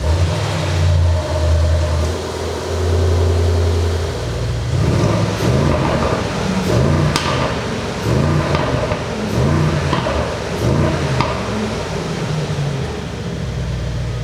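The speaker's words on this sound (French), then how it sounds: "Là, sur ma gauche, on a le GLE 63S AMG, donc le V8 biturbo." A Mercedes-AMG GLE 63 S with a 4.0 V8 biturbo starts in a showroom, idling low before several loud, rhythmic revving blips rise and fall in quick succession.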